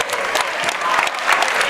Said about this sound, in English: And the crowd, a standing ovation, and well-deserved for Braden Holthouse, who comes out of the g